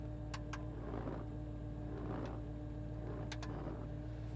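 Windshield wipers run on a 1969 Ford Mustang Mach 1, a soft rhythmic swish repeating about once a second over a steady low engine hum, with faint clicks; quiet and without talk.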